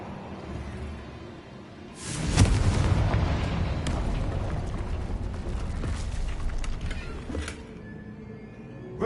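In Hogwarts Legacy, a spell blasts through a barrier as a sudden loud boom, followed by several seconds of rumbling, crumbling debris that slowly fades.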